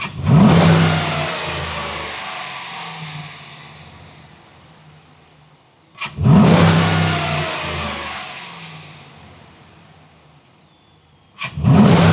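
A 5.7L V8 in a Dodge Durango or Jeep Grand Cherokee WK2, fitted with an aFe cold air intake, revs hard twice, each roaring burst climbing then slowly winding back down toward idle, loud and close with a throaty intake rush.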